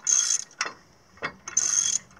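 A ratchet mechanism on the vertical log stops of a Timberking 1400 sawmill is cranked tight in short bursts, two longer clicking runs with brief clacks between them, close and clear.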